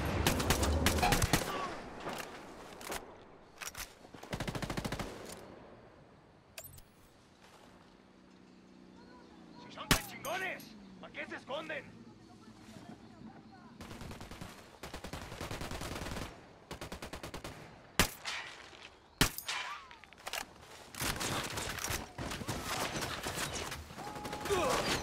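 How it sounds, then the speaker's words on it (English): Rapid gunfire bursts in the tactical shooter Tom Clancy's Ghost Recon Wildlands, loud broadband volleys of automatic shots broken by short pauses, with squad voices talking at times over the shooting. "I'm opening fire."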